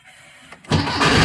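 Volkswagen Beetle engine cranking on a swapped Porsche 914 starter: a quiet whir, then a loud, steady grinding crank that stays close and continuous for the rest of the short burst.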